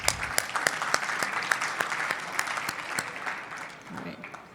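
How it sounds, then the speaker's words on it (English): An audience at a sports and entertainment program breaks into applause, a dense patter of claps with a few sharp louder ones, fading slightly toward the end, with faint voices mixed in. "So, a round of applause, please."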